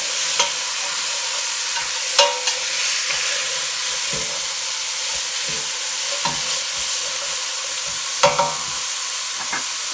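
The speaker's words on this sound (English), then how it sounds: "what you're going to do next is let those sweat" Vegetables sweating in oil for pea soup hiss in a steady, close sizzle, with scattered utensil scrapes and taps as they are stirred.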